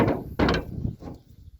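Hammer blows drive a nail punch against a universal joint on a driveshaft, two or three close solid knocks with short decays, loud and alone.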